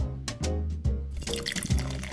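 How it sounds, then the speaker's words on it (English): Cola poured into a small bowl, heard as a short, close run of bubbly glugs and drips, fizzing brightly toward the end. "I'll pour cola into a bowl."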